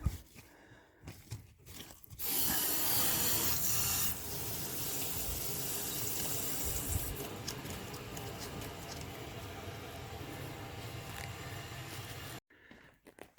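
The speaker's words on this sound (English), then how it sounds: "Turn our water main back on." Water gushes from a faucet after the house water main is turned back on during a bathtub repair, a loud steady hissing rush that starts abruptly, runs continuously, then cuts off near the end.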